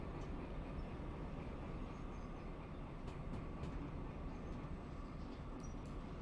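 A locomotive rolls along in the Derail Valley train simulator game, giving a steady, continuous low rumble and hiss with no talking.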